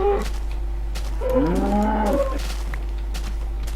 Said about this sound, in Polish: Wykorzystamy ten czas, żeby zabić krowy.